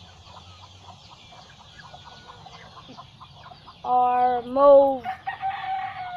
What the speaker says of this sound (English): we're going to be talking about the chickens right now